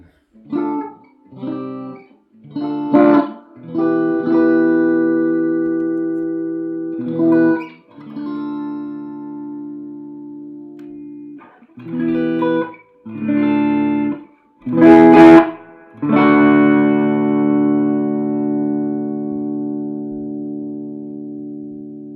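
A Stratocaster-style electric guitar with a ten-way pickup switch plays through a Swart AST Junior amp, giving short picked notes and chords, then a long sustained ringing chord at the end.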